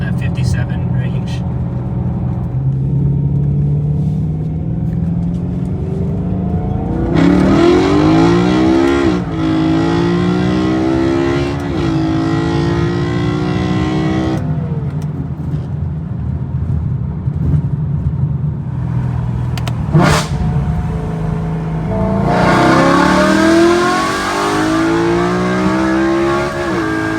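A BMW E92 M3 on full-throttle pulls, its engine note rising through the revs in repeated sweeps with shifts between them, loud and close from inside the car, with someone talking over it.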